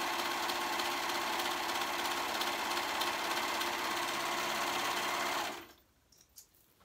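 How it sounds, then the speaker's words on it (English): A serger stitching raw fabric edges hums steadily at high speed, a dense mechanical whir that runs continuously for several seconds, then stops abruptly, leaving quiet room noise. "And then we're gonna serge those two raw edges."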